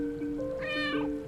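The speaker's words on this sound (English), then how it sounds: "you can meow during cutscenes" A single close, clear cat meow from the video game Stray rises and falls over a steady background tone.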